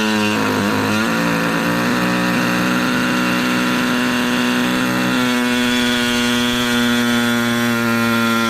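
A power tool cuts a custom dash part for a 1967 Chevelle, its loud, steady motor whine shifting in pitch as the blade bites, running alone without talk for over eight seconds.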